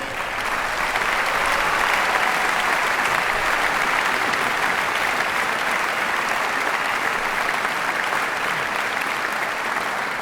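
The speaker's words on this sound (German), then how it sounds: "Begrüßen Sie mit einem Applaus" Sustained, dense applause from a concert audience in the KKL Lucerne hall welcoming St. Nicholas and his Schmutzli helpers at an organ jubilee concert, steady and full throughout without a break.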